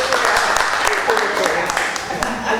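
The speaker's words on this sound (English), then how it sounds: "You all going to applaud yourself" An audience applauds steadily through the whole stretch, a dense wash of many hands clapping at once, with a voice carrying faintly over the noise.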